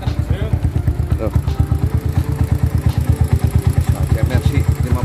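A 1998 Suzuki Baleno's engine runs with a near, rhythmic low throb of regular pulses and a faint clatter, while people talk nearby.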